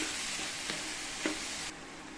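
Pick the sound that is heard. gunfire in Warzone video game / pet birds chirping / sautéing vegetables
sautéing vegetables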